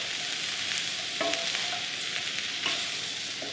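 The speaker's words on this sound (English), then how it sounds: "give your peppers and onions another stir" Peppers and onions frying in a pan, a steady soft sizzle throughout with a couple of light scraping stirs from a utensil, no voices.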